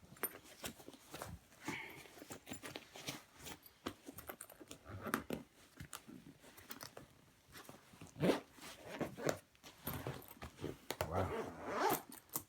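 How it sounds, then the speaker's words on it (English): Zipping closed a packing cube while packing for travel: repeated raspy zipper pulls in short and longer strokes over about twelve seconds, close-miked, with brief handling rustles and one spoken exclamation. "zip this on up"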